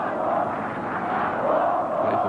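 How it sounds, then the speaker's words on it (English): Home football crowd at the Turkey vs Wales 1998 World Cup qualifier in Turkey, a continuous loud roar and chanting swelling and falling across the stand. "The home crowd getting involved again after a quiet spell following the 2 Welsh shock strikes"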